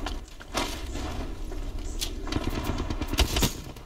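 Rampart's deployed turret machine gun in Apex Legends firing steadily, a dense, continuous rattle of rapid shots with thuds and scattered impacts mixed in, fairly loud and close.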